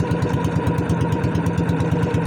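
Small fishing boat engine chugging at a steady idle-like pace as the boat heads out to sea before dawn for squid fishing, a rapid rhythmic thumping pulse close by and fairly loud throughout, with no voices.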